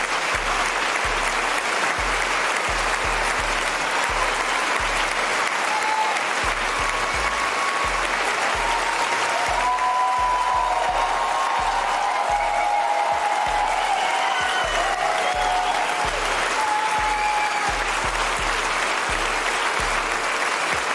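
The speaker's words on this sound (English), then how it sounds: "Alright, yes, they're clapping." Sustained audience applause, a long continuous wash of clapping at even loudness for about twenty seconds with a rhythmic low thumping underneath, no voices over it.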